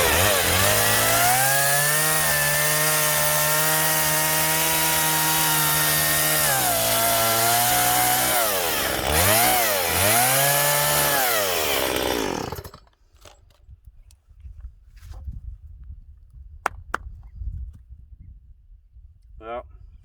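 A chainsaw roars loud and close while cutting into a collected bonsai tree, its engine pitch rising and dipping with the load for about twelve seconds, then cuts off, leaving quiet rustling and a few faint knocks.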